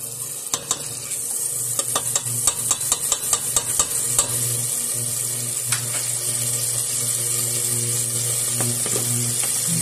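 Butter goes into a pan to start a carbonara sauce, with several quick clinks and scrapes early on, then a steady sizzle over a low hum.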